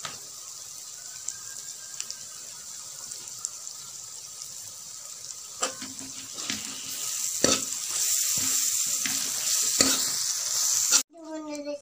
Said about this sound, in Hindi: अब इसको खूब भूनेंगे।